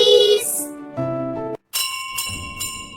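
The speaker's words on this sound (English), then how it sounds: "The bell is ringing." School bell ringing: a short bright chime of bell tones with a brief gap, loud and close, alone.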